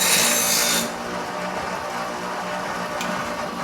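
An angle grinder cuts a metal piece for a Super Modified race car, giving a loud, harsh rasping whine that drops to a steadier, quieter grind after the first second.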